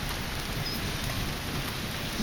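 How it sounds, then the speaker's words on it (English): Rain falls steadily at an outdoor spot, a dense, even hiss of drops on surfaces that holds the same level throughout with no voices. "it started raining"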